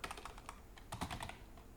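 Quick clicking keystrokes on a computer keyboard as a file name is typed, an uneven run of light taps with a denser cluster near the middle, close up but fairly quiet, with no voices.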